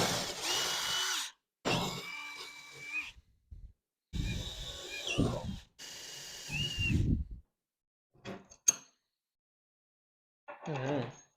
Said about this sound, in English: now I drill all my holes through my door